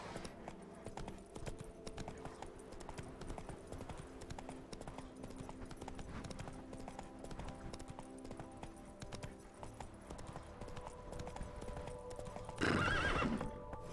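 The horse Roach trots along in a video game, with steady rhythmic hoofbeats under moody ambience and a loud whinny near the end.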